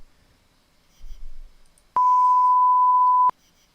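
A single clean electronic beep, a sine-wave tone generated in Audacity, pure and steady for just over a second, starts and stops abruptly after near silence.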